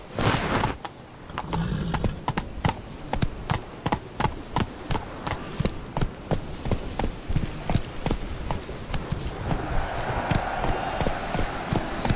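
Horse hooves pound in a steady, quick clip-clop gallop in The Witcher 3: Blood and Wine, loud and close, the rhythm running continuously over a faint outdoor ambience.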